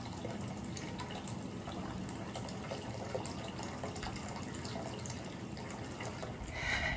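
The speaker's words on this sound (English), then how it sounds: "It is raining." Steady heavy rain pouring down, a dense continuous patter and hiss with no voices, holding level throughout.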